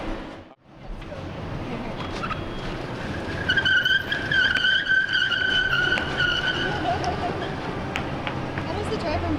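A car drives at speed and its tires skid with a drawn-out squeal in the middle, the engine roaring throughout while people talk over it.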